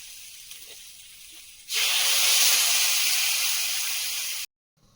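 Water is poured into a hot pan of curry, setting off a sudden loud hiss and steady sizzle that holds for a few seconds after quieter faint frying, then stops abruptly.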